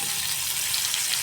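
Curry leaves hit hot oil for a fish curry, a short, even sizzle and crackle of frying close by with no talking.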